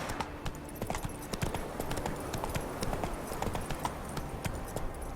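The horse Roach trots in a video game, its hooves clip-clopping in a steady rhythm with quick repeated clops throughout, moderately close.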